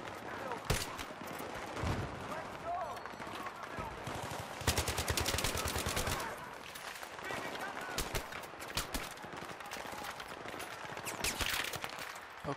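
Gunfire in the Battlefield 3 campaign, with scattered single shots and a sustained automatic burst in the middle, mixed with battle noise and voices talking throughout.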